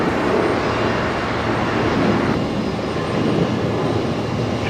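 A Jetstar Airbus A321neo departs Brisbane Airport at night, its engines giving a steady, broad roar that holds loud and continuous, with no voices over it.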